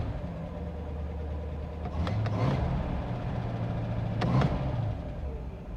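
A 1952 Buick engine, started for the first time after 26 years, idles with a steady low rumble close by, with a couple of brief clicks and rattles over it.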